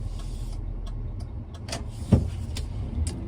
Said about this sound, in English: sorry, car turning.